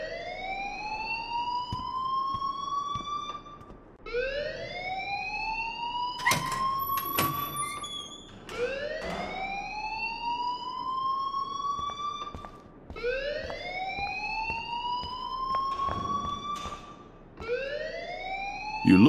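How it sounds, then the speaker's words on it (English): Fire alarm wailing in the video game Life is Strange, a loud repeating rising siren sweep that climbs and holds about every four seconds, with a brief clatter partway through and no talking. "please turn off that alarm since that's your job"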